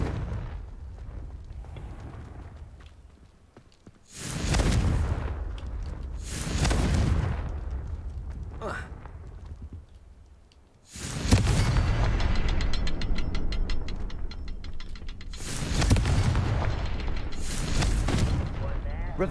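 Confringo explosive spell blasts in Hogwarts Legacy, several loud booming bursts in a row with crackling, rumbling tails, spaced a few seconds apart and standing out over the game's ambient background.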